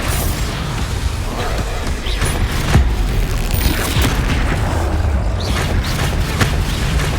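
Blasting-spell explosions in Hogwarts Legacy, loud booming bursts and crashes layered in a dense, continuous battle roar, with several sharper impacts standing out.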